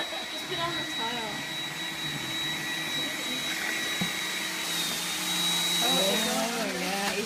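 A robot vacuum cleaner runs across a tile floor with a continuous, close whirring hum and a thin high whine, swelling slightly toward the end, while faint voices murmur in the background.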